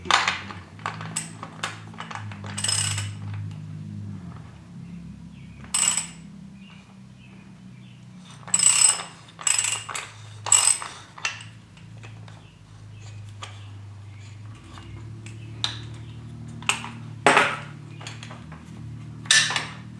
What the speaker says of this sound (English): Then we're going to get our 19 millimeter ratchet and socket.